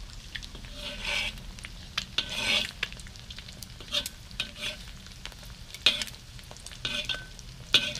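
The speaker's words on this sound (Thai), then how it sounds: "ไฟอ่อนครับไข่ดาวต้องใช้ไฟอ่อน" An egg fries in a pan over low heat with a steady crackling hiss, broken by several scraping strokes of a utensil against the pan.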